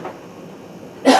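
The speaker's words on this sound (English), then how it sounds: "My allergies making me cough." A single short, sharp cough from a person with allergies bursts out at the end, right after a quiet stretch in a home kitchen.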